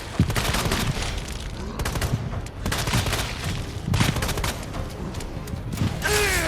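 Repeated pistol shots ring out in Resident Evil 2 as Leon fights on hardcore difficulty, sharp cracks spaced irregularly over a dense, noisy game soundscape, with a rising whine near the end.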